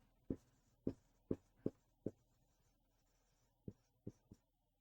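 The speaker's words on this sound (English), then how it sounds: "I'm just gonna write some stuff here" Pen strokes of someone jotting notes on paper, eight distinct short scratchy taps spaced unevenly, close and fairly quiet with no talking.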